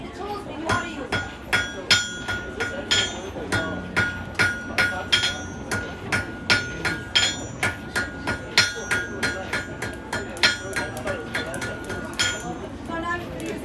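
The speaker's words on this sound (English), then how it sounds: "So now I'm going to use the edge of the anvil." A blacksmith at a Renaissance festival demonstration strikes metal on the anvil in a steady rhythm of sharp ringing blows, roughly one or two per second, loud and close, with a talking voice between strikes.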